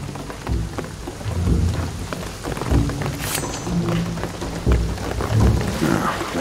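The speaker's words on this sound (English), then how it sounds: "the rain is gonna flood this" Rain and thunder in Shadow of the Tomb Raider, steady heavy rainfall on surfaces with repeated low thunder rumbles rolling through, loud and close, without speech.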